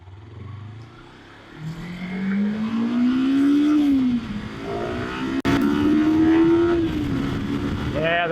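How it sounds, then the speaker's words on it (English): Kawasaki Versys X 300 motorcycle engine accelerating through the gears, a rising tone that climbs, drops at a shift, then climbs again, loud and close, with a brief click midway. "the nice light, quick clutch makes it really easy to step up and start to accelerate"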